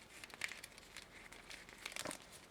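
A small plastic bag holding a Japanese gashapon capsule toy is opened with quiet, close crinkling and rustling in short irregular bursts.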